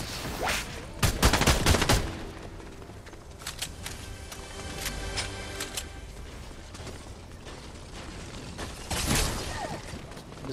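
Gunfire in a video game, including sniper shots: sharp, loud reports in clusters, some fired rapidly, with quieter mechanical clicks and distant shots between them.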